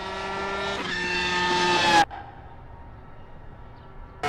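A Formula 1 car in the racing game Assetto Corsa on the Le Mans circuit holds a high, climbing engine whine that cuts off sharply at about two seconds, leaving a quieter hum before another burst at the end.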